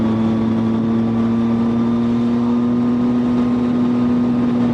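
A Triumph Street Triple 675 motorcycle cruises along a country road in North Wales, its engine holding a steady, loud droning hum with constant wind rush and no change in pace or voices.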